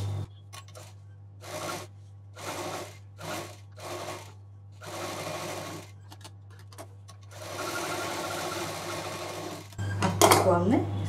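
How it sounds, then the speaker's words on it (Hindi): A sewing machine stitches lace onto the border of a sling bag at home, running in short bursts with pauses, then one longer run, under a low steady hum. "इसी तरह से ये दूसरा बॉर्डर भी सिल देंगे, ये दूसरी लेस भी इसमें हम सिल देंगे"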